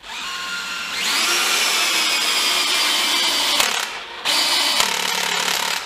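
A DeWalt DCD795 cordless drill on its last clutch setting at low speed whirs steadily while driving a screw into wood, pausing briefly and then running on, loud and close.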